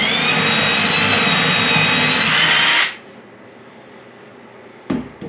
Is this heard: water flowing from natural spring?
no